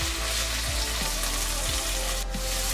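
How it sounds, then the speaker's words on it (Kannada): Onions and masala for a mutton curry fry in oil in a pan, a steady close sizzle and crackle with faint stirring knocks, no voices. "ಇದನ್ನೆಲ್ಲ ಒಂದು 5 ನಿಮಿಷ ಚೆನ್ನಾಗಿ ಸಾಫ್ಟ್ ಆಗೋ ತನಕ ಫ್ರೈ ಮಾಡ್ಕೊಳ್ಳೋಣ"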